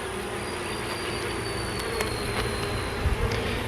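Honey bees buzz during an end-of-May hive inspection, a steady, close swarm hum that fills the air with faint, brief knocks near the end.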